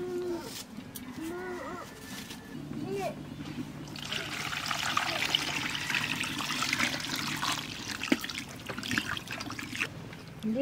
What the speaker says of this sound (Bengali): তাই এখানে গরম জল দিয়ে একটু দেবো।